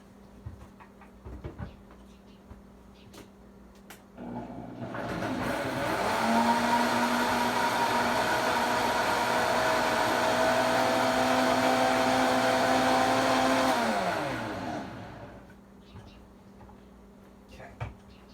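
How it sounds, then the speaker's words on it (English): A stand mixer whirs for about ten seconds as it mixes mock meat burger ingredients, spinning up to a loud steady drone, then winding down, with quiet clinks before and after. "It's time for me to mix it up."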